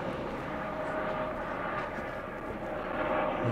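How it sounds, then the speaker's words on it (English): A helicopter passes overhead above playing fields in Morley, Perth, Western Australia, giving a steady, broad, moderately distant engine and rotor drone with no talk. "And got a helicopter overhead"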